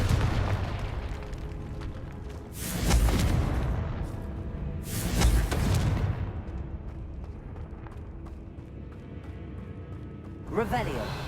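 A Confringo blasting spell goes off in Hogwarts Legacy: two heavy, booming explosions a few seconds apart, then a sharper burst near the end, all over a low ambient background.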